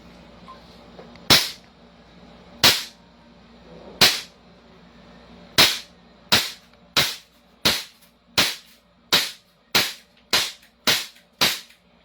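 A Trex Silver 5.1 pistol fires sharp, cracking single shots at a range. A few widely spaced shots come first, then a quicker steady string of about ten evenly timed shots, each loud and close against quiet background.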